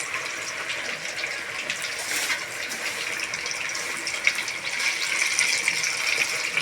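Water being pumped runs in a steady, continuous rushing stream, close and fairly loud, with no voices and no clear break.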